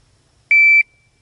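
A PACT Club Timer II shot timer gives one very loud, clean electronic beep lasting about a third of a second, alone against near silence.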